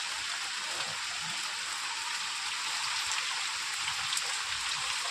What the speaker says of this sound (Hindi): ये देखो भी दिख रही हो तो आपको बारिश कितनी तेज़ हो रही है